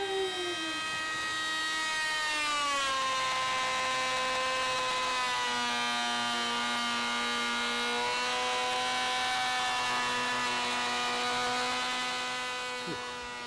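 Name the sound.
power planer cutting an oak plank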